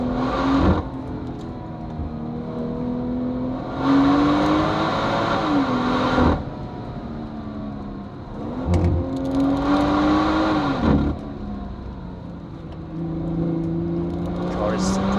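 BMW M140i xDrive hatchback driven hard up the Hulftegg Pass in the Swiss Alps on a hot day, its engine note rising and falling through repeated gear changes at close range, with talk over it.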